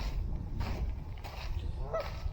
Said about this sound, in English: Should be able to hear some geese in there.